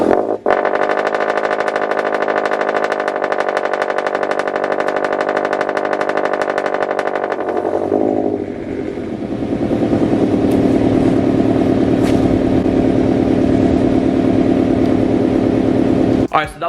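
A car cold start through UEL catless headers and a straight-pipe exhaust: a loud, close, buzzing high-idle drone that holds steady, then drops and settles into a lower, rougher idle rumble partway through.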